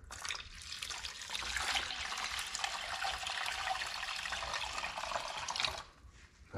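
Water pours into a gold panning pan, a bright, continuous splashing trickle close by for about six seconds before stopping abruptly.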